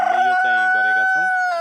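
A rooster of a local chicken breed on a Nepali poultry farm crows once, loud and close. The crow is a strained, rising-and-falling call lasting under two seconds, with a faint background hum.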